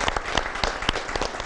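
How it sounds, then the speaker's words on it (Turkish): A brief burst of audience applause at a Turkish village gathering honoring a local leader, dense clapping with a few sharper individual claps standing out. "Alkışlar diliyoruz"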